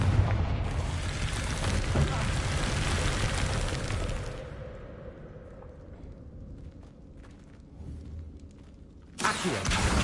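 Confringo fire spell blast in Hogwarts Legacy, a loud roaring boom that rumbles for about four seconds, fades into quieter background noise, then bursts again near the end.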